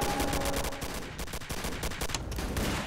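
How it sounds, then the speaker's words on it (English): Rapid bursts of video game gunfire in Garry's Mod rattle continuously, shot after shot, loud and dense throughout. "I can't hear you over the sound of gunfire."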